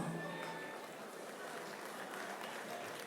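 Steady, faint clapping from an audience at a comedy show, a continuous patter of hands with background crowd murmur throughout.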